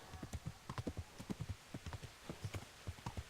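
Horses gallop in Kingdom Come: Deliverance, a steady close clip-clop of hooves pounding in quick uneven rhythm, fairly quiet and heard alone without talk.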